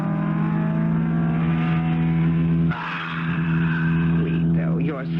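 A car engine revs and accelerates as a sound effect in an old radio drama, loud and close, while someone talks over it and the engine note shifts partway through.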